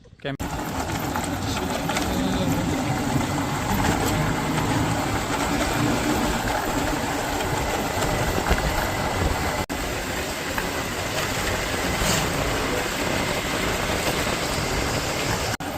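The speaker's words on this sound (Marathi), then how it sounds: "मी निघालो आहे आता भुसावळला जायला आपल्या बाईकवर" A motorcycle engine drones steadily while riding slowly on a rough, gravelly road, its fast rattling pulse blending with wind rush, while someone talks over it.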